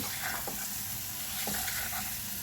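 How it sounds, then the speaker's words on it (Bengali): Fried potatoes sautéed in a pan for a rohu fish curry sizzle continuously, with a couple of soft stirring scrapes over the hiss, near and moderately quiet. "ভালা ভাজা আলুগুলো তুলে দিয়ে ভালো করে কষাতে হবে"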